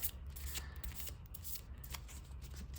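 Playing cards are shuffled by hand during a card game with a starter deck, with quick riffling bursts running steadily over a low background hum and no talking.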